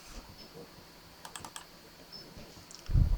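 Quick bursts of keystrokes on a computer keyboard while working in a spreadsheet, a short run of crisp clicks close by, followed by a louder low thump at the end.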